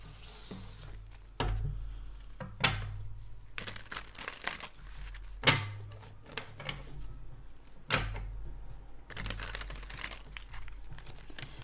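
Tarot cards drawn and handled during a reading, giving intermittent close crinkling, shuffling and light slapping bursts separated by short quiet gaps, no voices.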